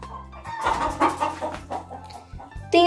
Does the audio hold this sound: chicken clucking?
yes